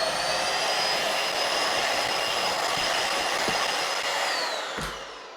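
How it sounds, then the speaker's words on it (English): A Bissell PowerSwift Ion XRT stick vacuum runs over white powder with its aggressive brush, a loud, steady whining roar with a high tonal whistle that holds constant, then drops off near the end. "So we'll see here if now the Bissell Ion XRT can remove the remaining white powder because it has a more aggressive brush"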